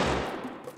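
A burst of rapid gunfire from guns in a GTA-like video game opens loud, then its echo trails away over a fraction of a second, with no voices.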